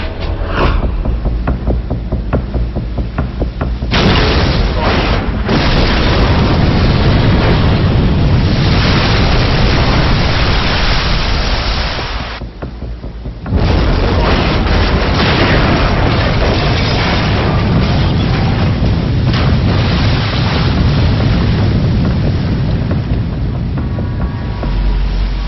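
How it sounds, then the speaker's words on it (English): A torpedo blast beneath a warship's hull, heard as a sustained, loud, roaring rumble with heavy low booms, a brief dip midway, then continuing deep throbbing roar throughout. "when the torpedo explodes directly beneath the hull, it creates a massive air pocket into which the ship sinks"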